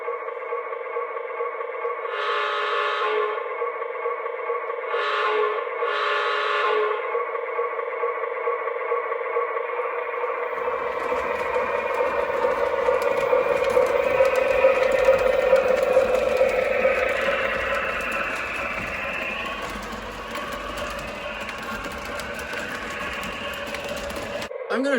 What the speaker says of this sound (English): get a better sense of the revving up of the prime mover in here after I rewired the locomotive